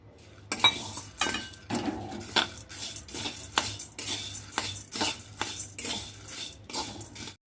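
Lentils and roasted gram being stirred as they roast in a metal pan, busy close clatter of a spoon scraping and knocking the pan in quick irregular bursts with brief pauses, no talking.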